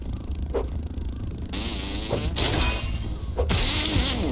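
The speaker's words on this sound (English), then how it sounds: "Oh, there's the mosquito. I'm like, I hear it buzzing around." Mosquito in the video game Grounded, a wavering insect buzz rising and falling as it circles close by, broken by short sharp hits, with game sounds and no talk.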